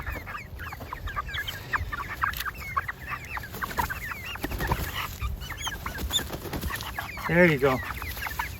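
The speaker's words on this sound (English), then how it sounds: "Here's your rooster." A single rooster clucks repeatedly in a garden setting near a chicken brooder sled, with soft bird calls scattered throughout and a louder crow-like burst near the end, while a person speaks briefly.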